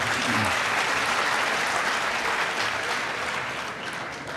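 An audience at a comic poetry gathering for Eid breaks into sustained applause, a full, even wash of many clapping hands that fades slightly toward the end.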